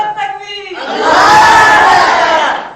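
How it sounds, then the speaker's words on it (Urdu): At a religious gathering, a large crowd recites salawat aloud in unison. After a single voice briefly leads, a loud, sustained collective chant swells and then fades. "صلوات شریف بلند آواز"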